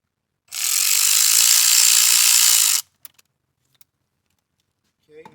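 Ratchet wrench loosening a 6 mm clamp on an EVAP system pipe of a Dodge vehicle, heard as a loud, steady rapid clicking run of about two seconds, followed by a few faint taps and quiet talk.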